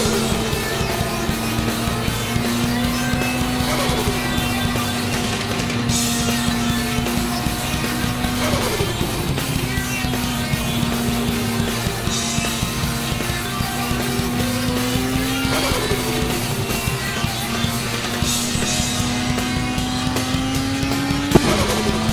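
Race car engine in Gran Turismo 7 lapping the Nordschleife, a loud continuous whine that climbs in pitch through the gears and drops sharply at each shift, repeating in long waves.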